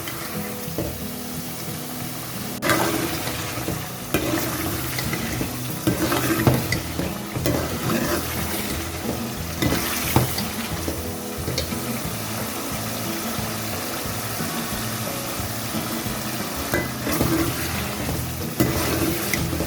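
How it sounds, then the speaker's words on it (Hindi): Mutton sizzling in a pan with a masala mixture as it is stirred, loud close bubbling and frying with repeated scraping and clanks of the spoon against the pan, continuing steadily without speech. "यहाँ पे जो हमने घोल बनाया था ये हम डाल देंगे मसाले में और इसको हम भूनेंगे"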